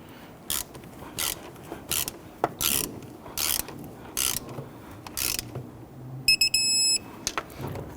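A ratchet wrench turns a nut on the knock sensor of a 2011-2014 Kia Sorento engine, giving several short bursts of rapid clicking spaced about a second apart, close and fairly loud, followed by a brief high metallic rattle.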